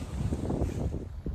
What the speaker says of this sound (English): It is very, very windy back here